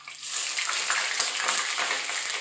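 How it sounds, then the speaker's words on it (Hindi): Water poured into a hot cooking pan in a home kitchen bursts into a loud, steady sizzle and hiss that holds throughout without speech. "और एक डाल रहे हैं एकदम अच्छे से पानी को"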